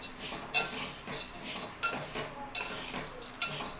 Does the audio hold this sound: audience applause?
no